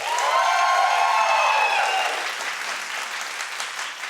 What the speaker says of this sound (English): Clap if you think Nicki should open the show.